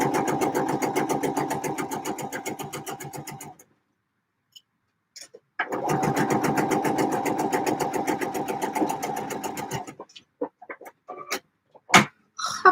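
A home sewing machine stitches a garment side seam in two steady rapid runs of close, even needle strokes separated by a short pause, then ends with a few brief clicks and taps.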